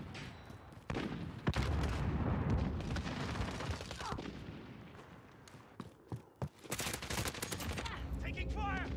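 Rapid bursts of automatic gunfire and explosions crackle through a Modern Warfare multiplayer match, dense and loud for most of the stretch, with brief lulls and a few sharp close shots near the end.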